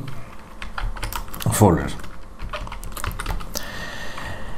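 A computer keyboard clatters with quick bursts of typing while a file name is entered, close and fairly loud, and someone speaks in Bengali between the keystrokes.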